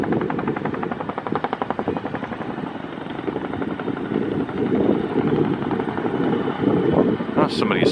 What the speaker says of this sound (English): somebody's flying a dual rotor helicopter over here